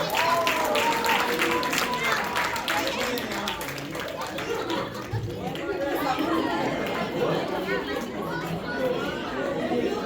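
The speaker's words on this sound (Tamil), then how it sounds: "பெரிய கைத்தட்டல்களுடன் மேடைக்கு" At a Tamil school's annual day event, an audience applauds and chatters as a senior committee member is welcomed onto the stage, a dense, continuous wash of clapping and crowd voices.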